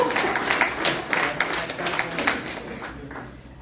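An audience at a Telugu bhajan awards function in South Africa breaks into applause, a thick wash of many hands clapping that holds steady before gradually tapering and softening toward the close.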